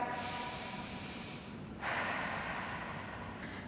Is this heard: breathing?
yes